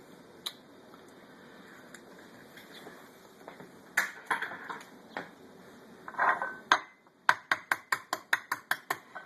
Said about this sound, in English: first you have to break the duck egg